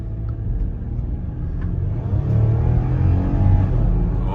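A 2008 Lexus RX 350 speeds up on the road, heard from inside as a deep steady engine rumble and tire roar that rises and grows louder partway through.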